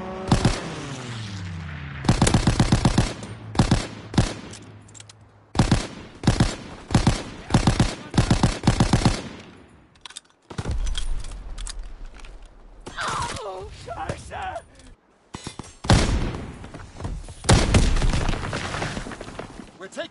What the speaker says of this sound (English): Fighter pilot inbound,